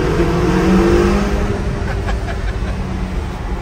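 A Ferrari California T revs inside the Mont Blanc tunnel, a loud, close engine note rising and swelling with echoing roar from the enclosed tunnel, heard without talk.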